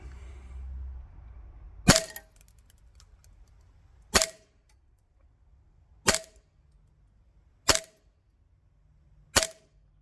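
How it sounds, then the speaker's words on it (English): Five sharp shots from a Limcat Battlecat Hi-Capa airsoft pistol firing .2 gram BBs on green gas, spaced about two seconds apart, each a crisp loud crack with a short ring, alone against a quiet background. "let's go and shoot this thing. Okay, I'm using .2 gram BBs and green gas with the Battlecat."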